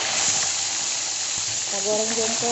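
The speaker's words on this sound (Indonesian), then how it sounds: "Kita goreng jengkol" Steady broadband sizzle of sliced jengkol beans frying in hot oil, close and continuous, with a few brief tonal clinks and a faint voice near the end.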